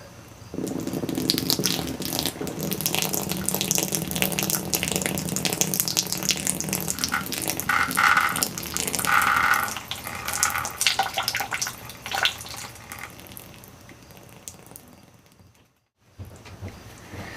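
Saline from a neti pot pours through the other nostril and splatters into a sink, a long steady gush of running water close by that thins out near the end and then cuts off.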